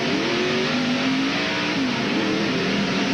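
A Miller Genuine Draft Ford stock car pulls off pit road at Sears Point in 1994, its engine revving loudly and continuously as it accelerates away, with a dense roar filling the whole stretch.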